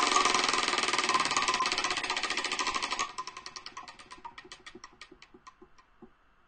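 A prize wheel spins at a podcast launch party, its pointer clicking in a rapid, steady ratchet that gradually slows and spaces out into separate ticks before stopping.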